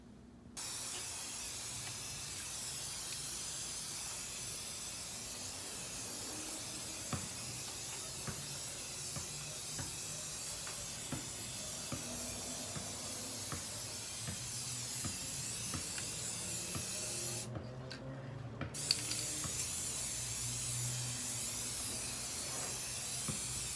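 A steady, close hiss of a glossy spray paint can onto paper runs almost without a break, pausing once for about a second before the spraying resumes.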